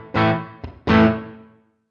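Guitar played through a Fractal effects unit with reverb set to an even wet-dry mix: two strummed chords, the second ringing out and trailing into a soft reverb tail before fading to silence.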